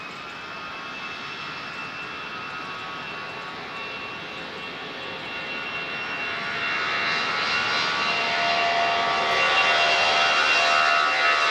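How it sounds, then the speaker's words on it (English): A 24-year-old TAP airliner jet at Lisbon Airport gives off a sustained engine whine and roar that grows steadily louder over the seconds, heard from outside with no talking. "this is TAP's oldest aircraft"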